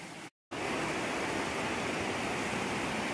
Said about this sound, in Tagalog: Sa falls ng Barangay Damong Soran, Aroroy, Masbate Province.